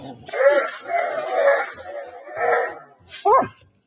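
Two Golden Retrievers and another dog tussle in a tug-of-war game, giving yips and playful whimpers mixed in with a person talking excitedly over them, close and fairly loud.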